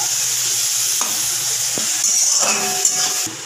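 Spice paste (masala) sautéing in a pan for a fish curry, a steady close sizzle and hiss with occasional soft scrapes and knocks of stirring.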